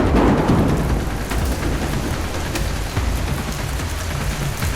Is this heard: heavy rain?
yes